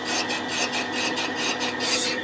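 A Yamaha CT-3 motorcycle cylinder being bored gives off a loud, close, continuous rasping scrape that pulses in a fast, regular rhythm as the cutter works the bore.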